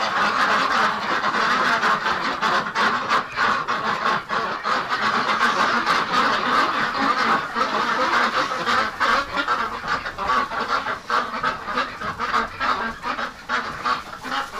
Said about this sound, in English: Look at all the ducks in here.